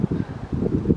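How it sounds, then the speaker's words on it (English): Wind blowing through the woods at Callaway Gardens, a low rushing and buffeting that swells in repeated gusts for about a second, close and fairly loud against the microphone. "I think it's the wind"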